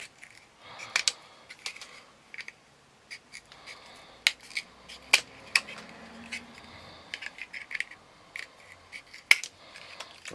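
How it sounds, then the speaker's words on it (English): A sharp pair of scissors snipping through thick, hard HDPE plastic sheet, giving a string of crisp, irregular clicks and snaps, close by and fairly quiet, with short pauses between cuts. "quite a sharp pair of scissors"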